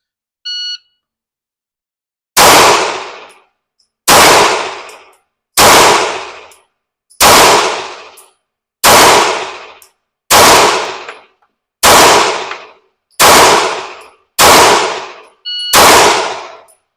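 Ten sharp Glock pistol shots crack out one after another at an indoor GSSF match, spaced roughly every one and a half seconds, each loud and close with a short ringing tail and no talking between them.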